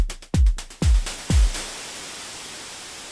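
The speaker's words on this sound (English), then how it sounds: "a white noise release with this if I wanted." Three punchy synth hits, each trailing into a wash of white noise that lingers and slowly fades over a long, hissing tail.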